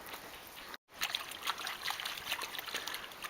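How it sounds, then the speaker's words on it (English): A river flows with a steady trickling, splashing rush of water close by, fairly faint, broken by a brief dropout near the start. "You can hear a bit of a rumble of traffic, but it's, I think, drowned out really by the sound of the river"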